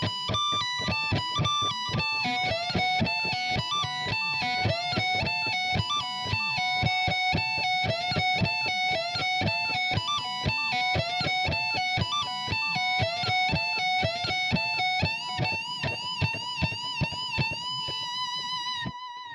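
Electric guitar slowly plays a solo phrase, with a steady run of picked, lightly distorted notes that rise and fall in repeating patterns, moderately loud and alone, ending on a held note.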